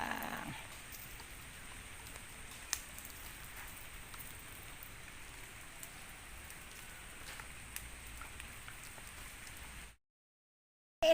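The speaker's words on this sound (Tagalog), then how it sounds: "inulan na" Continuous soft rainfall hisses steadily on a surface, with a couple of faint knocks, then cuts to silence near the end.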